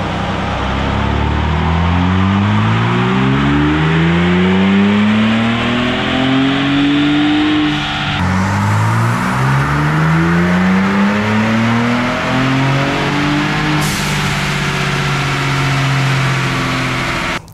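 A Whipple-supercharged Ford Bronco Raptor, still in stock tune, revs hard on dyno rollers, loud and close, with repeated rising engine pulls that climb, drop back and climb again, plus a steady roller drone underneath and no talking.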